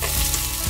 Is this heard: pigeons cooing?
no